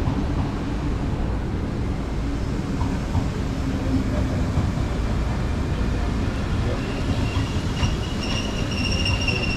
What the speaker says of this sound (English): So there is my train.